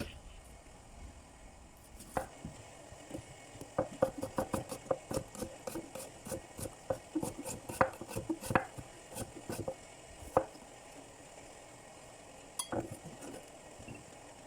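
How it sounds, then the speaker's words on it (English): Garlic and onion being crushed and chopped with a knife on a board for a bamboo shoot stir fry, a run of sharp irregular taps and clicks, close and moderately loud, with no speech. "now she's going to crush and chop some garlic and also some onion"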